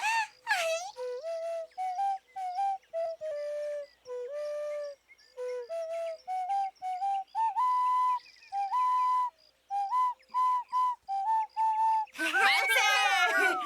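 A small whistle is blown in a long series of short, shrill toots of varying pitch, followed by excited high voices at the end.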